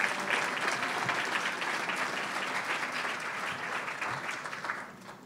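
Audience at a 20th anniversary benefit breaks into sustained applause, a dense wash of clapping that holds steady for several seconds before tapering off at the end, with no speech.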